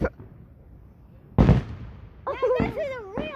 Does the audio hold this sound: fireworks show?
yes